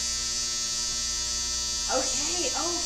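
A dryer runs with a steady loud droning hum throughout, while a person speaks over it toward the end.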